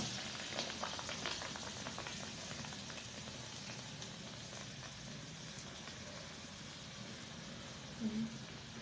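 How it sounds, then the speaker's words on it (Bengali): Battered eggplant fritters coated in gram flour sizzle steadily in hot oil, a continuous dense crackling and bubbling hiss that stays close and even throughout, with no talk over it. "এবার আমি বেসন দিয়ে তেলের মধ্যে ছেড়ে দেব"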